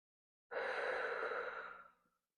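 A single long, deep breath drawn and released during a hip stretching exercise, close and soft, lasting under two seconds before fading to silence.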